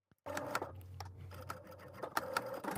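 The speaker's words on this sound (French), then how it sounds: "Et maintenant, je vais venir le piquer et refermer du coup la couture." A sewing machine runs close by, stitching a seam closed on an evening dress. It makes a steady whirring hum with rapid, rhythmic ticking of the needle, and no talk is heard.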